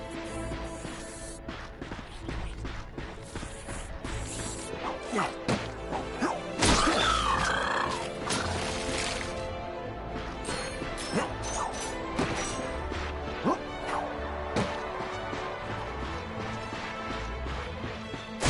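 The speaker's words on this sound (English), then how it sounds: "Look at him smashing crates." Wooden crates get smashed in the Ratchet & Clank video game, a run of sharp cracking breaks and whacks scattered over busy game music and effects, with one loud burst midway.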